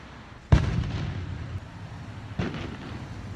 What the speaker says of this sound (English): Fireworks are already starting to go off.